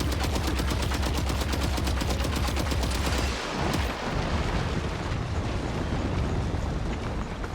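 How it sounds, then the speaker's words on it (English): Rapid gunfire in the video game Death Stranding 2, a loud, dense burst of repeated shots for about three seconds, then a brief drop and continued heavy blasts and rumbling effects. "I'm gonna try just shooting the thing."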